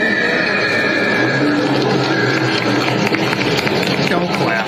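A horse neighs amid a steady wash of background noise and voices, the whinny rising and falling over a few seconds.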